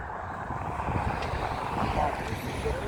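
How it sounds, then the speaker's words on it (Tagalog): Steady wind blows across an outdoor walkway in a scenic hilly garden area, a constant roar and buffeting against the microphone with a faint low rumble underneath. "Tapos mahangin pa."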